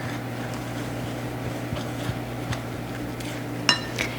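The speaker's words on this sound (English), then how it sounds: "So I'm just going to mix these dry ingredients together." Dry baking ingredients such as flour, baking soda and salt mixed in a bowl, soft steady stirring with scattered light clinks and taps of a utensil against the bowl, ending in a sharper knock.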